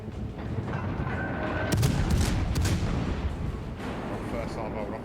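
Naval gun salvos in a warship video game: deep booming blasts and rumbling impacts layered over a constant loud engine and sea drone, with a few sharp cracks in the middle.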